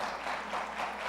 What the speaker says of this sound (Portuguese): Essas palmas ficam muito fracas